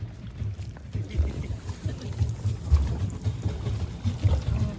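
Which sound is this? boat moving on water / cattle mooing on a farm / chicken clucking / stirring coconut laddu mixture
boat moving on water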